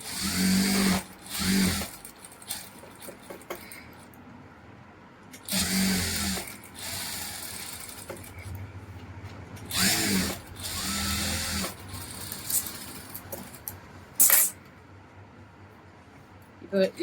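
A sewing machine runs in short bursts while stitching a blouse neckline, the whirring runs starting and stopping repeatedly between stretches of talk.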